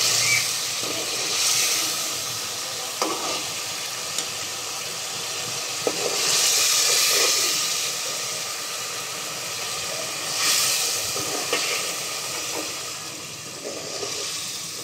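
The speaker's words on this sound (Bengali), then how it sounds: "এই যে বলক চলে আসছে" Fish broth boiling in a pot, a continuous bubbling hiss with swells of steamy rushing and a few faint clicks.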